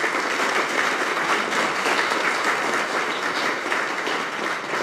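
Steady, sustained audience applause fills the whole stretch at an event announcing a lithium battery facility on a UK campus, dense and even with no voices breaking through.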